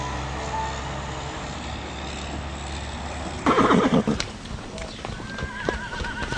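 Horses at export pens in New Mexico, outdoors, with a loud whinny rising near the middle over a steady background rumble of traffic and clopping movement.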